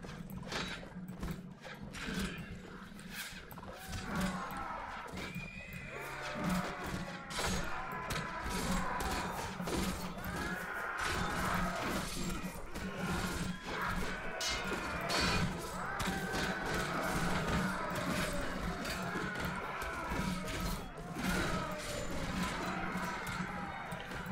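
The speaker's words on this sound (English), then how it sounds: "stop beating up my horse" In a video game, a horse is beaten by bandits: hooves clatter and thump amid crashing blows and scuffling, with a brief whinny, busy and loud across the whole stretch.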